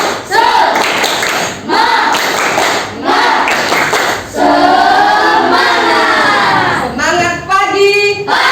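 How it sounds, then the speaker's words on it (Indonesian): A group of children and a teacher perform a rhythmic Indonesian spirit clap in a classroom, loud clustered claps broken by short gaps, with chanted voices running through much of it. "ayo kita melakukan tepuk semangat"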